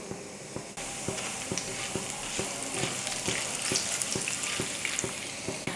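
Mustard seeds and cumin sizzle and fry in hot oil for a Telugu raw tamarind chutney. A steady crackle runs throughout, with a regular spoon tapping against the pan roughly twice a second.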